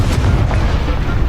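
A Confringo fire spell blasting in the video game Hogwarts Legacy: one loud, deep, booming explosion that stays dense and rumbling through the whole short burst.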